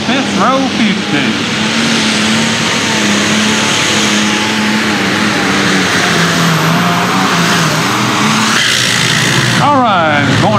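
A light limited super stock pulling tractor roars hard and steadily at a tractor pull in Hopkinsville, Kentucky, the loud engine drone sustained throughout with a brief shift near the end and crowd or announcer voices mixed in.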